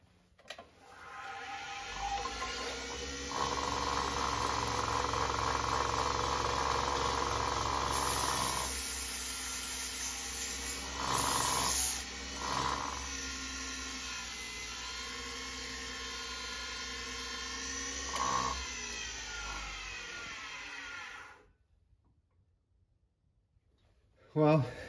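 A steady mechanical whir of a spinning lathe with sanding friction on a figured maple bud vase layered on top, continuous and fairly loud, before winding down and stopping.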